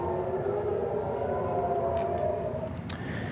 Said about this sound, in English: air sirens are sounding in Haifa, warning of Iranian missiles